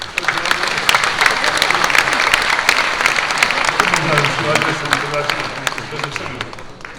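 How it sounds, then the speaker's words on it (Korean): An assembly hall at a church presbytery meeting fills with sustained applause from many people, dense crackling clapping that carries on for several seconds while voices murmur and speak underneath. "그럼 두 분 다 박수를 쳐드립시다"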